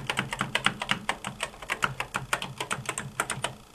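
Rapid, uneven keystrokes on the keyboard of an ADDS Regent 25 serial terminal, some keys faulty, clacking close and alone in a steady burst of about two dozen presses.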